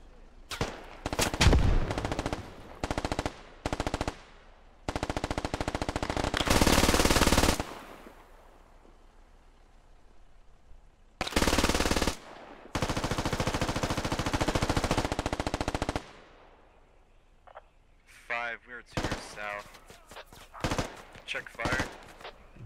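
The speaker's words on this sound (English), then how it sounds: "Wrath and Caddy are over here just going back to back, shooting each other through the fence" Gunfire in the tactical shooter game Squad, loud bursts of automatic fire in several separate volleys with quiet gaps between, some sustained rattling stretches, and a voice speaking briefly near the end.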